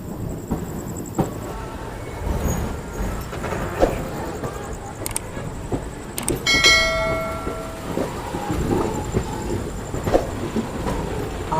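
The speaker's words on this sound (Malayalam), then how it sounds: "നമ്മുടെ ട്രെയിൻ അങ്ങനെ ഏതാനും നിമിഷങ്ങൾക്കുള്ളിൽ ഷൊർണൂർ ജംഗ്ഷൻ റെയിൽവേ സ്റ്റേഷനിലേക്ക് എത്തിച്ചേരാൻ പോവുകയാണ്." An express train rolls into Shoranur Junction railway station with rhythmic clickety-clack over rail joints, scattered metallic clanks and a ringing bell-like tone, steady and fairly loud inside the moving train.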